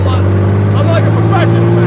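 A car engine drones steadily and close, with a couple of quick rises and dips in pitch as the driver short-shifts into third; voices talk over it.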